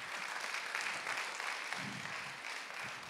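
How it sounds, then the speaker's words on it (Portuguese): Steady applause fills the room for the volunteers of a stage hypnosis show, a dense, even wash of many hands clapping at a distance, with no break. "Uma salva de palmas para os nossos astros."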